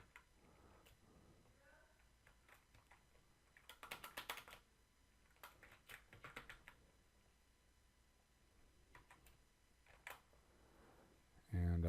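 Fingers typing a password on a computer keyboard, soft scattered clicks in a few short bursts, fairly faint, ending with one sharp louder click.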